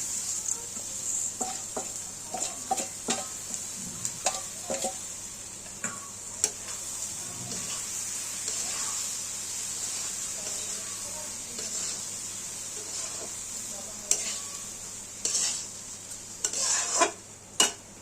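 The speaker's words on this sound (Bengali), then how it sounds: "চালটা দিয়ে 1 থেকে 2 মিনিটের মতন আমরা নেড়ে নেব" Rice with turmeric is stirred in a pot for basanti pulao, giving quiet sizzling and gritty scraping with a run of light ticking clinks early on and a few louder knocks near the end.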